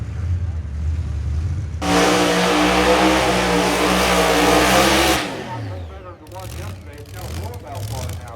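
At a drag strip during Hot Rod Drag Week, a drag racing car roars loudly at full throttle for a few seconds before the engine note drops and fades. It then settles into lower, uneven burbles and blips.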